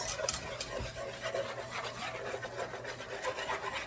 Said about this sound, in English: And then we're gonna whisk this and cook it on high heat.